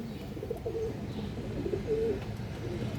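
Silver khaki pigeons coo softly, with a couple of low, rounded coos rising over a steady loft background hum.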